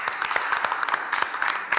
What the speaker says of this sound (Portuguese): salva de palmas pros caras mais uma vez aí